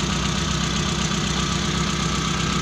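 The cold engine of a T120SS fuel-injected car idles at raised RPM with the choke active, a steady, close, even throb with a faint knocking pulse and no voices.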